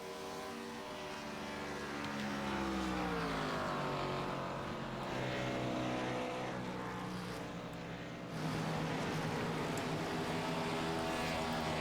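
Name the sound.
race cars running on older tires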